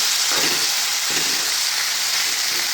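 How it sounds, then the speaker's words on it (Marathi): Onion sautés in oil with cumin, mustard seeds and curry leaves in a kadhai, giving a steady, fairly close sizzle, with a few soft scrapes of stirring and no talk. "आता हा कांदा चांगला लालसर होईपर्यंत परतवून घेत आहे"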